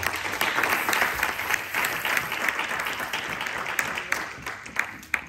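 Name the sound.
church congregation applauding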